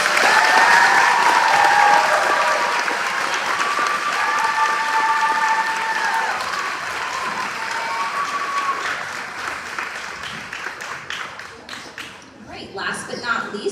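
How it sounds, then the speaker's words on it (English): A school audience applauds fourth grade students at an elementary celebration, a dense, sustained wash of clapping lasting over ten seconds with voices and cheers mixed in, then tapering into scattered claps. "Can we give them a round of applause?"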